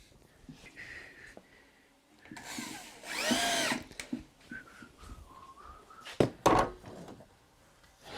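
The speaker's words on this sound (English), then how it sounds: "So I get my first set of screws in and then put the last set in." A power drill drives screws into a mosaic tree limb coffee table, with bursts of whirring motor that rise in pitch, short pulses near the end, all close.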